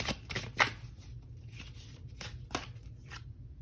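Tarot cards being shuffled and pulled from the deck, a few quick riffling and slapping bursts up close over a low steady background hum, with no talking.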